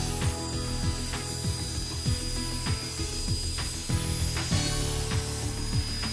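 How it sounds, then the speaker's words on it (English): A Hypertherm plasma cutting machine makes straight cuts, a steady hiss and hum with repeated short mechanical scraping strokes at a regular pace, fairly close and loud. "the Hypertherm plasma finishes all 7 holes and begins the straight cuts"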